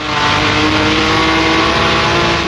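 A Jaguar D-Type race car's engine howls loud and close, revving hard at high RPM in a continuous strained roar as it climbs through the gears on track.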